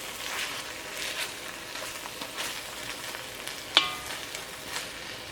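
Chicken roast masala sizzling steadily in an open pan, with soft scraping stirs of a spoon and one sharper knock against the pan partway through.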